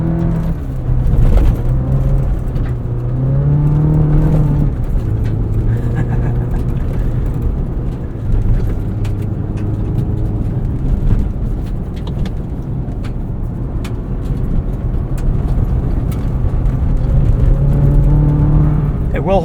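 A 2024 Chevrolet Colorado ZR2 pickup driven in manually selected low gear and two-wheel drive, its engine droning loud and steady from inside the cab with rising and falling revs, while a person talks over it.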